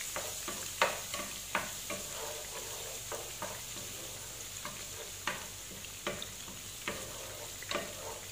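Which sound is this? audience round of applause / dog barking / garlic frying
garlic frying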